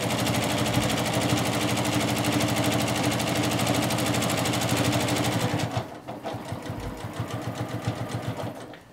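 A sewing machine stitches quilt binding, running loud and steady for about five and a half seconds, then slowing into separate rapid stitch bursts as it nears the corner.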